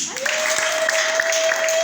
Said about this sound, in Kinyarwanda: twamukomera amashyi.